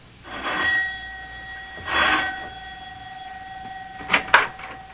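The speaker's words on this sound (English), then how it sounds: "Mac presses the doorbell at his house" A doorbell chimes twice in slow succession in a radio drama, each tone ringing out and fading, followed later by a brief pair of sharper clicks or knocks.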